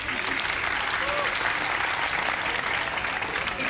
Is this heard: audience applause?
yes